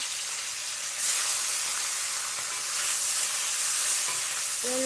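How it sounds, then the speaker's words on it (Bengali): Food frying in a pan sizzles steadily and close up, growing slightly louder after a second, with faint stirring scrapes and a brief tonal beep near the end. "রান্না করছি"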